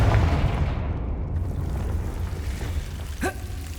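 A Confringo blasting spell explodes in the Hogwarts Legacy video game with a deep, booming blast that rumbles and slowly fades away, followed by a small whooshing flare near the end.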